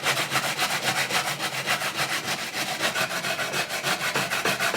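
Carrots rubbed by hand over the fine side of a grater for a carrot cake, a steady fast rhythm of close, scratchy rasping strokes running without pause and without talk.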